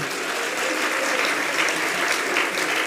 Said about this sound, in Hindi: तालियां तो बजा रहे हो, थोड़ा जोर से बजा दो